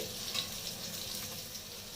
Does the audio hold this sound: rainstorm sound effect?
no